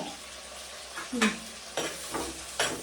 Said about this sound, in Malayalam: നമുക്കൊന്ന് ഇളക്കി കൊടുക്കാൻ നന്നായിട്ട്